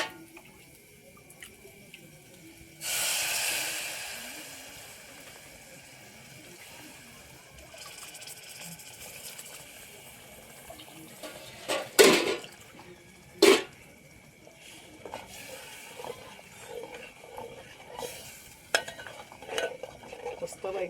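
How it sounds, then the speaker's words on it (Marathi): Chicken broth pours into fried masala in a pan, a sudden wet rush and sizzle followed by stirring scrapes and clinks of a spoon, with a few sharp taps against the pot. "तर आता आपण चिकनचा आळणी रस्सा त्यात टाकून घेऊया."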